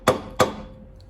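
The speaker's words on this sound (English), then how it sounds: "you give it a little whack with a soft hammer" Two sharp whacks from a rubberized soft mallet striking a stuck brake caliper on a 1994-1996 Chevy Impala SS or Caprice 9C1, spaced about a third of a second apart, each ringing briefly and fading.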